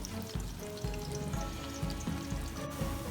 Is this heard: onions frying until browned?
yes